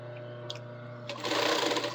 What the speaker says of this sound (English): I'm going to top stitch that.